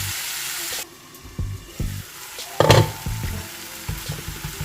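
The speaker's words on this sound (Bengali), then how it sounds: "একটুখানি ঢাকনা দিয়ে ভালো করে এটাকে কষাবো" Tomato masala for a prawn curry sizzles and sputters in a pan, a steady frying hiss broken by a few clinks and stirring knocks, with one louder scrape partway through.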